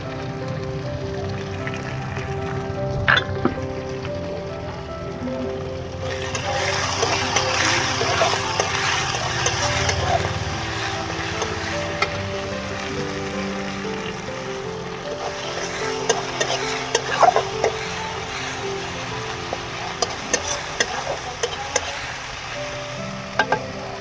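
Black cumin seeds sizzle steadily in hot oil in a pan, a continuous close crackling fry with occasional sharp pops and faint stirring, no talking.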